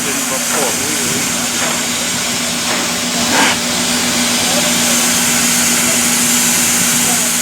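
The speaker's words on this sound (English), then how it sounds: "One last video of the steam engine before we leave." Steam locomotive 4960 on the Grand Canyon Railway, at its 100th birthday event, gives off a steady, loud hiss of steam that runs without a break, with a faint low hum beneath it.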